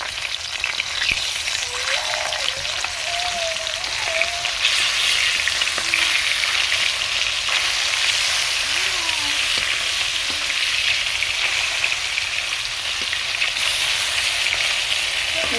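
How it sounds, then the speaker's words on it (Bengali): Pieces of rohu fish fry in hot oil, giving a steady, loud sizzle and crackle that holds evenly throughout, with a few faint clinks and background sounds. "এভাবে লাল লাল করে মাছগুলো ভেজে নেবো।"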